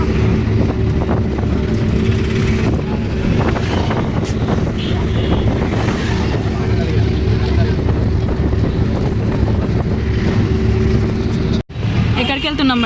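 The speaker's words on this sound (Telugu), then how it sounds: "బస్సులో అయితే వెళ్తున్నాము" Steady roar and rumble from inside a moving bus on the way to Hanamkonda, with a continuous low engine drone and wind noise throughout, then a sudden brief dropout near the end.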